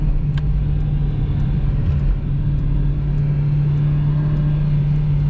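A Ford Fiesta 1.0 sedan accelerates in first gear with a loud, steady engine drone and rumble inside the cabin, holding an even pitch throughout, no voices.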